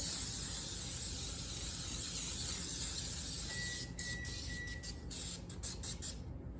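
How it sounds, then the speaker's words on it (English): A continuous hiss of cooking spray coating a cookie sheet runs for several seconds, followed by a few quick, sharp clicks. "then we will need to take cooking spray and spray the cookie sheet"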